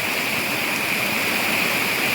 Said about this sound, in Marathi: पाणी जे पडते वरून सर्व आलेलं आणि नदीला भेटतं आहे आपल्या